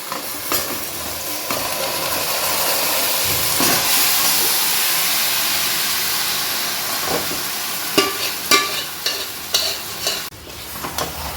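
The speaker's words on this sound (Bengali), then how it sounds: "এই ম্যারিনেট করা চিকেনটা দেখেছো এটা আমি পেঁয়াজের মধ্যে ঢেলে দিচ্ছি" Marinated chicken hits hot frying onions in a pan with a loud, steady sizzle and hiss that swells and then settles, followed by several sharp scraping stirs near the end as the meat is turned for chicken biryani.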